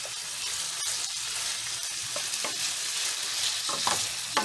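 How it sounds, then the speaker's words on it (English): Beef browning in olive oil in a pan sizzles steadily as it is stirred, with soft scraping strokes and crackles close by and no talking. "You want to make sure you put some olive oil in the pan so that they don't stick, and it'll help them to brown faster"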